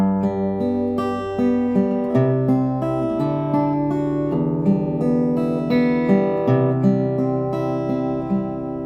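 Guitar playing a chord progression in a beginner arrangement, steady strummed and picked chords changing every second or so, warm and close, alone with no voices.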